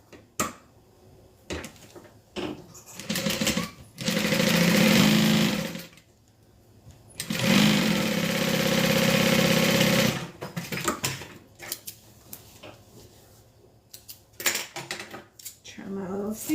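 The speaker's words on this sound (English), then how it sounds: "let's go ahead and sew the bottom to the other side" A sewing machine stitches quilted fabric pieces together in two long, loud, steady runs of a few seconds each, with quieter handling clatter and brief talk in the pauses.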